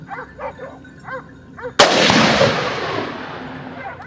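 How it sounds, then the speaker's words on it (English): A single loud gunshot cracks during a wild boar hunt near a farm at the foot of a hill and rolls away in a long echo, after several short dog barks. "shots echoed from other directions, signaling that more targets have been taken down"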